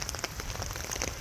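Steady rain patters onto a garden pond beside a running waterfall pump, a soft, even hiss of drops with scattered brighter splashes.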